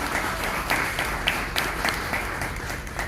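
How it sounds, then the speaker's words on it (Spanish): Congregation applauding during a Spanish-language church service, a steady wash of clapping from many hands at moderate level with a few sharper claps standing out, no talk over it. "Dale aplauso a Cristo"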